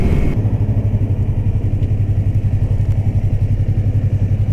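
A Yamaha R3 motorcycle engine idles close by with a steady, even pulsing rumble and mechanical clatter, loud and alone without talk.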